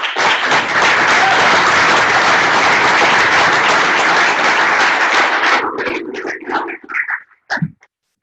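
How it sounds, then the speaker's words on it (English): Loud, dense applause and cheering from a crowd at a military unit farewell gathering runs strongly for more than five seconds, then breaks up into a few scattered claps and voices before stopping. "So huge round of applause to these guys."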